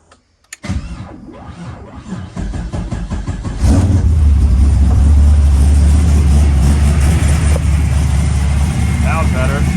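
An LS3 V8 swapped into a BMW E36 cranks and catches, then settles into a loud, deep, steady idle with a heavy low rumble close by, carrying an exhaust leak.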